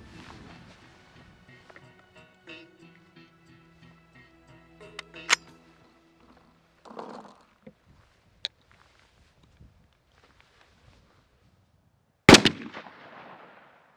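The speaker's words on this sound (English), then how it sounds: "I wanna show you how our 20 gauge shells perform" Several sharp, loud blasts from a 20 gauge shotgun firing TSS tungsten turkey loads at targets outdoors, spaced irregularly, the loudest near the end, with quiet gaps and faint background between shots.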